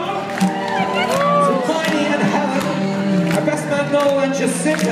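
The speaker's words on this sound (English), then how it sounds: "Give a big round of applause to Josephine and Martin!" A wedding reception crowd cheers and whoops to welcome Josephine and Martin onto the floor. The noise is loud, dense and continuous, with shouts and voices mixed throughout.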